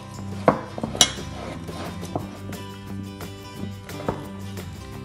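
Peas being mixed with olive oil and lemon zest in a bowl, with a few sharp utensil clinks against the bowl over soft tapping and scraping, close and fairly quiet, no voices.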